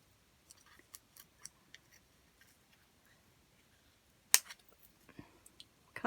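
Scissors snip a slit in material for a mosaic vase project, a series of quiet, sparse clicks and cuts close by, with one sharper snip later amid near silence.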